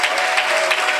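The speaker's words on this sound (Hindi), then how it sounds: "इस वचन के लिए जोरदार तालियां देगा।" An audience at a church service claps loudly and steadily in a short, dense burst of applause.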